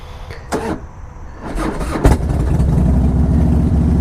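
A carbureted 2005 Harley-Davidson Softail Deuce motorcycle cranks through a few labored starter attempts, then catches and settles into a loud, close, steady rumbling idle.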